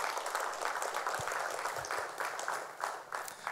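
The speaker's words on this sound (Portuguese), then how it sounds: "Vamos aplaudir o Senhor, irmãos." A church congregation applauds together in steady, rolling claps that swell in waves, moderately distant and filling the room.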